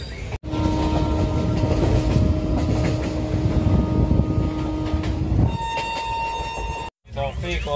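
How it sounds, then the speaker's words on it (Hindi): Goa Express train leaving Belapur station, loud rumbling wheels and sustained horn-like tones heard close from on board, then a brief cut and quieter carriage sounds with faint voices. "बेलापुर, बेलापुर आ चुकी ट्रेन। Good bye Belapur."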